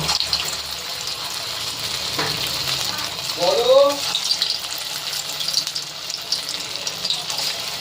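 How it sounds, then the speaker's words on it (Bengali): Chicken meatballs fry in hot oil with a soft, steady sizzle and crackle, fairly close, with a brief clatter of stirring or handling partway through. "এবার চিকেনের বলগুলো ভেজে নেব"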